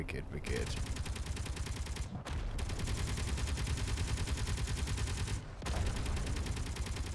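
Turret gunfire in Space Engineers, shooting at meteors: rapid, steady automatic fire rattles almost without pause, broken by two brief gaps, loud and close.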